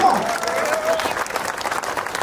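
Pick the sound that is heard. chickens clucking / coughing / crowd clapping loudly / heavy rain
crowd clapping loudly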